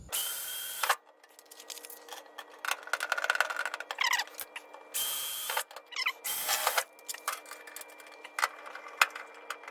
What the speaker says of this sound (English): You hear that big loud pop as I push through the drill bit